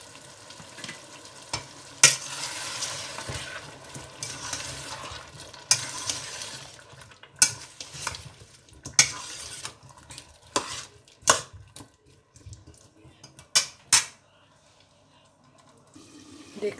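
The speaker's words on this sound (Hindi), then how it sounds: "तो गोभी को भूनेंगे।" Cauliflower being fried and stirred with spices in a pan, with sizzling and repeated scraping and clattering of a spoon against the pan, some strokes sharp and loud, others softer, with quieter sizzle in between.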